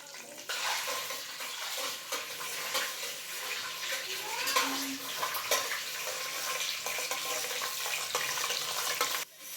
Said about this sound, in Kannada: ಈಗ ಕಡಲೆ ಬೀಜ ಎಲ್ಲ ಚೆನ್ನಾಗಿ ಫ್ರೈ ಆಗ್ತಿದೆ.